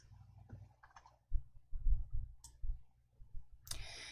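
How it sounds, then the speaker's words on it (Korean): A few quiet computer mouse clicks during spreadsheet work, faint and irregularly spaced over low room noise. "병합 아이콘으로 클릭해 주세요."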